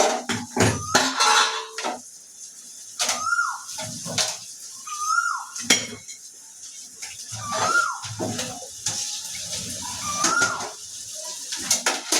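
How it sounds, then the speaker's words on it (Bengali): An Asian koel calls repeatedly outdoors, sending four rising whistled notes at intervals, while dishes, cutlery and running water clatter nearby in a kitchen. "কোকিলটা কখন থেকে কুহু কুহু করেই যাচ্ছে"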